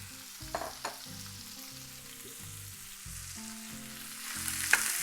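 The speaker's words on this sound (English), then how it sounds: "I've got this front skillet, super hot. I'm going to go ahead and add my ground meat." Ground wild game meat frying in a super hot skillet with a little olive oil, giving a steady close sizzle broken by brief scraping stirs, with the sizzle swelling louder near the end.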